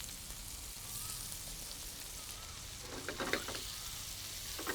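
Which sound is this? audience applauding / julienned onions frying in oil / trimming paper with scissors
julienned onions frying in oil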